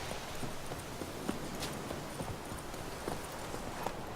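A horse's hooves clip-clop quickly and rhythmically on the ground in the fantasy video game The Witcher 3, a steady, fairly quiet galloping beat with no one talking.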